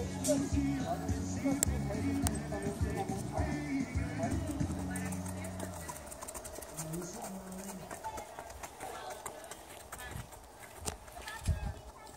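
Horse galloping at a country farm, with rhythmic clip-clop of hooves in the first half fading as it moves off, while voices talk over it.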